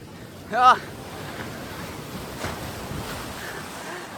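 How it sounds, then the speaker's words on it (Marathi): Rough sea waves wash in at Kashid beach, a broad steady roar with wind noise, preceded by a brief vocal sound near the start. "हे बघा लाटा बघा"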